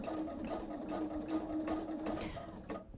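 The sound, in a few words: sewing machine top stitching cotton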